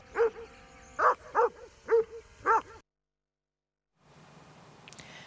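A dog barks five times in quick bursts, fairly close, followed by a silent gap and then faint background noise.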